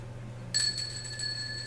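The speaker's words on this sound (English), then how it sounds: "it's Grandma's bell" A grandmother's small hand bell is struck, giving a sharp bright ding followed by a shimmering ring that lingers and decays over a low steady hum, faint and close, with no talk.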